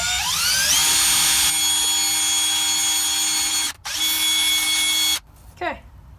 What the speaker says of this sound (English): I just get a bamboo stick and a drill.